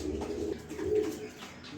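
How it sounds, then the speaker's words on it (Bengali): Racer pigeons, a pair of high-quality birds kept for sale, give soft, low, throaty coos close by, quiet and rounded, over under two seconds. "এখানে আরও এক পেয়ার কবুতর আছে রেসার, সুপার কোয়ালিটি এক পেয়ার রেসার কবুতর"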